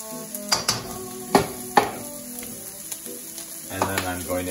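Garlic sizzles in a hot pan for pork fried rice, a steady close frying crackle punctuated by clinks and scrapes of a utensil stirring, with soft background music.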